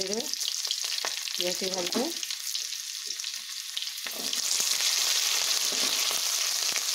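Cumin seeds splutter and crackle in hot oil with a dense, continuous sizzle. A voice speaks briefly over it near the start, then the frying hiss swells and grows louder.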